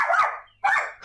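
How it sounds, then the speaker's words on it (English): Dog barking nearby, two sharp, loud barks separated by a brief pause, standing alone with no talk. "There's nothing wrong with a few doggy barks"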